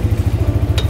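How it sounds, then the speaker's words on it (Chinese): The engine of a Water Buffalo 402 farm transport vehicle running near and loud, with a fast, regular low chugging pulse over a short moment. "我启动，哦，我启动引擎哈"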